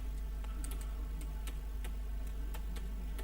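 Soft computer keyboard typing during an online webinar, scattered key clicks at an uneven pace over a constant low hum, fairly quiet and with no talking.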